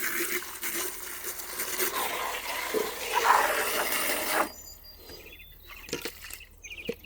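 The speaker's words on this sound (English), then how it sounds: "so we'll rinse again." Small bird dishes are rinsed under a running tap, giving a steady splashing water sound for about four seconds that stops abruptly, followed by quieter clinks and faint high chirps.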